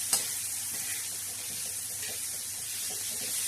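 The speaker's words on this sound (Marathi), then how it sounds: "आता हा कांदा थोडासा असा छान असा परतलेला आहे." Onion, tomato and green chillies fry on a gas stove in a steady, even sizzle, close and continuous, with a soft clink of stirring near the start.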